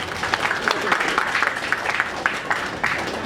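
A crowd claps steadily for a few seconds, a warm burst of applause filling the room with cheers mixed in.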